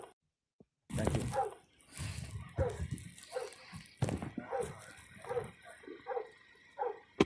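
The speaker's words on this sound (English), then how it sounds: "And now you hear the dog in the background." A dog barks repeatedly in the background, a series of short, moderately distant barks at irregular intervals over several seconds, with faint muffled noise between them.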